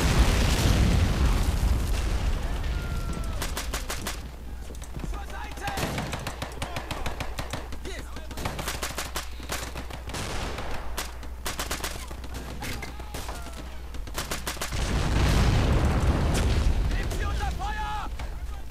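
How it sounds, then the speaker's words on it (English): Explosions and gunfire rumble through a Red Tide game battle, with heavy booms at the start and again near the end and a continuous crackle of distant shots between. "I don't know what those explosions are all about."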